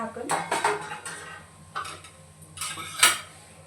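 Metal lid lifted off a cooking pot, a few sharp clanks and scrapes of metal on metal spread over a few seconds, close and moderately loud, with no talk.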